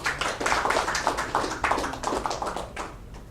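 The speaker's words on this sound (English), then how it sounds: "let's give them a round of applause, please." An audience at a medical talk on refractive surprises claps, a short burst of distinct, fairly close handclaps that thins out and fades toward the end.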